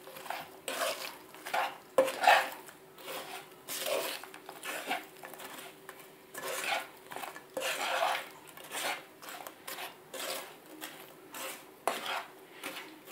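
Whole fried makhana is stirred into coriander panjiri in a pan, making repeated scraping and rattling strokes of a spoon against metal in an uneven rhythm, close and moderately loud with no talking.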